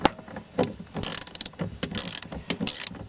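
A ratchet with a 15mm socket works a front seat bolt loose inside a Dodge truck, giving rapid clicking bursts in several short runs, close and clear with no talking.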